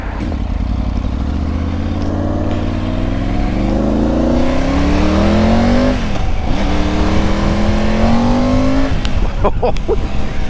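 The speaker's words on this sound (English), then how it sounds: "So this has the quick shifter. I've never used a quick shifter" Adventure motorcycle accelerating hard with a quick shifter, engine note climbing through several quick upshifts with brief dips between gears, loud and close with steady wind noise throughout.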